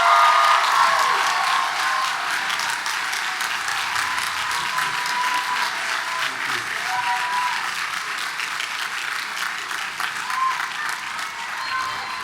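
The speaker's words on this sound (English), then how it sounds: "round of applause for our two deans" An audience at a university Class Day ceremony applauds for its two deans, with dense clapping loudest at the start and easing slightly while it continues. The clapping sounds sharp and crisp.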